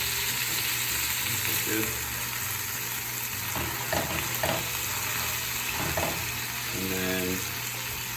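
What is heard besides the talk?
burger patties sizzling in frying pan after flipping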